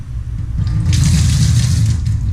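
A kitchen sink tap in an apartment runs water steadily into the basin, a close, loud splashing rush that swells after a soft start and holds to the end.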